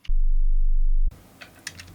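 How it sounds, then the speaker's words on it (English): A synthesizer holds a single low, steady sine tone for about a second, cutting off abruptly into quiet room noise with faint clicks. "Now we can go back to the synth and I can show you this sine wave in action."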